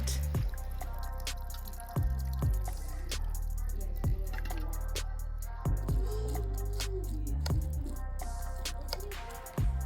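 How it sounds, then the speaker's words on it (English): Simmered cinnamon liquid is strained and mashed through a strainer, giving irregular close drips and small splashes with soft wet squishing and a steady low background hum. "So you're gonna go ahead and just strain this. Make sure you mash it, get all of the liquid out."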